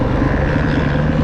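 Yamaha 450 dirt bike engine idling after starting, a steady loud mechanical drone with a pulsing low throb, no voices.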